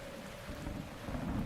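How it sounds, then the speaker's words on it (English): Steady rainfall in The Legend of Zelda, a constant low hiss and patter with a faint tonal hum from the game's ambience running evenly throughout, no talk over it. "of course it would rain when I've used the last bit of Rivali's Gale"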